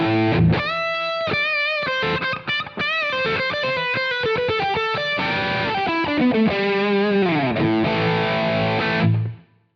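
An electric guitar plays through a high-gain amp capture on a Quad Cortex. Crunchy distorted riffs and chords come fast and loud, then fade out at the end.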